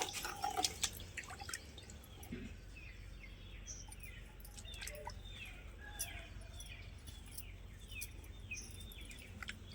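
Tubers are washed by hand in water to rinse off soil, giving soft splashing and dripping over a steady background hum, with birds chirping in the distance.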